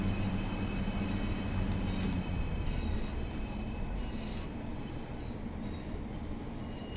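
Pacer Class 142 diesel railbus in Train Sim World 6 running on Cardiff branch lines, a steady loud rumble of wheels and rails with persistent high metallic wheel squeal throughout.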